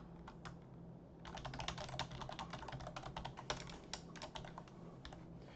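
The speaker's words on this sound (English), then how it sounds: "And now you can type your message." Someone types a message on a computer keyboard, and the keys clatter in quick, uneven bursts close by with short pauses between runs.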